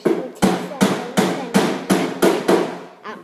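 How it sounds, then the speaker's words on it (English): A hammer strikes repeatedly in a steady rhythm, about eight sharp, loud, close blows each followed by a brief ringing decay, with no talk over them. "You hear that hammer?"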